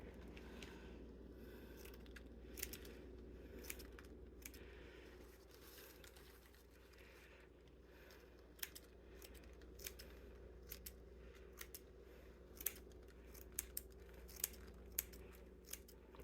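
Small scissors snipping at a Dollar Tree Valentine topiary ball, shaping it round: scattered sharp clicks and snips, sparse at first then quickening toward the end, close over a low steady room hum, no talking.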